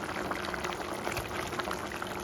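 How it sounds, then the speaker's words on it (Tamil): A steady, dense bubbling and simmering of thick vada curry in a pot, constant and close, with no talking. "இப்போ வந்து நல்லா கொதிக்குது"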